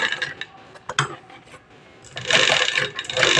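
A sewing machine stitches along the shaped collar of a kurti, with a soft mechanical clatter that starts in short bursts and then runs steadily and louder toward the end.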